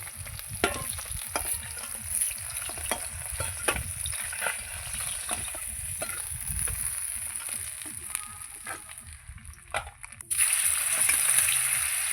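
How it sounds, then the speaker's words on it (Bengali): Pieces of catla fish fry in hot oil in a home kitchen, a steady close sizzle with occasional clinks and stirring scrapes, growing louder near the end. "আর 2 পিস আছে, এগুলো সব ভেজে নেব।"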